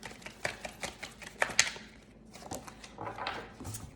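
Self-care oracle cards are shuffled and drawn from a deck, a run of close, crisp taps and flicks with soft papery rustles, irregular and fairly quiet.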